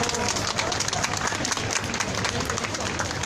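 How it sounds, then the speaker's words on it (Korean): Sustained crowd applause at an outdoor Wednesday rally for the students who opened the event, a dense continuous patter of many hands clapping at moderate distance. "첫 시작을 힘차게 열어준 우리 학생들에게 다시 한번 박수 부탁드립니다."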